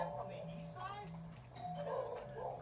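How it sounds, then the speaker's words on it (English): A house doorbell rings in the video game Bully, a two-tone chime repeating several times at a steady pace, heard under someone talking throughout. "Who the fuck is ringing our doorbell?"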